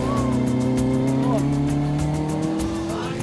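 A Datsun 1600 SSS rally car runs with a sustained droning engine note whose pitch shifts as it goes, close and fairly loud and continuous throughout.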